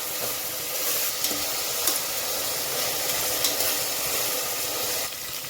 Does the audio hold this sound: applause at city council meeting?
no